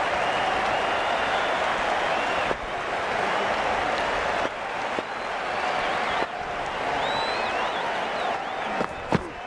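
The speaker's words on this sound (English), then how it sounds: "The crowd's on their feet" Virtual cricket crowd in the Cricket 19 video game, a loud, continuous roar of cheering and applause that swells and dips for several seconds, with a few sharp knocks near the end.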